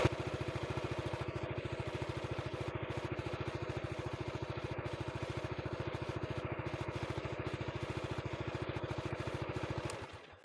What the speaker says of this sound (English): The engine comes on.